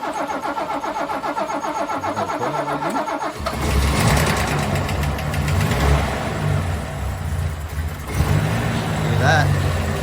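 A VG Valiant pub truck engine, just fitted with repaired rockers, cranks briefly and catches, then idles and revs with a deep, steady rumble and occasional throttle blips, loud and close.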